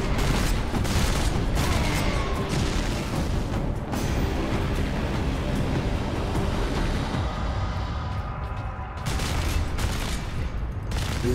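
Heavy weapon fire from lascannons in the Warhammer 40000: Space Marine video game, a dense, loud, continuous roar of blasts and booms that barely lets up, briefly thinning near the end before surging again.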